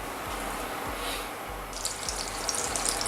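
Potatoes frying in browned butter in a pan, a steady soft sizzle with low crackle, growing brighter and busier in the last second or so, with no voices.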